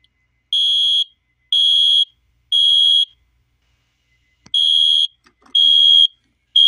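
Wheelock MIZ-24S-W fire alarm sounding during a test, emitting loud high-pitched electronic beeps in a steady pulsing rhythm, three pulses, a pause, then more, with no talking.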